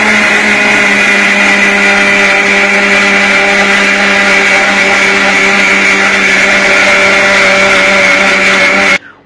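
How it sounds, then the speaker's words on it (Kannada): A mixer grinder grinding sugar and cardamom seeds runs at a loud, steady whirring pitch for the whole stretch before cutting off abruptly near the end. "ಸಕ್ಕರೆ ಮತ್ತು ಏಲಕ್ಕಿ ನುಣ್ಣಗೆ ಆಗುವಷ್ಟು ರುಬ್ಬಿಕೊಂಡಷ್ಟು ಒಳ್ಳೆಯದು."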